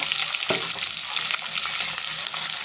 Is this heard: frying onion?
yes